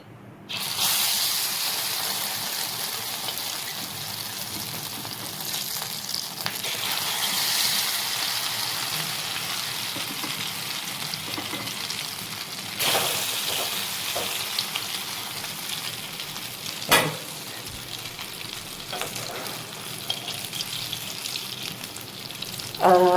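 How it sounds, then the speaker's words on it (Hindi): Shami kebabs frying in hot ghee, a steady, fairly loud crackling sizzle that runs throughout, with a few brief bumps and clatters along the way. "तो अब जो है हम कबाब फ्राई करते हैं।"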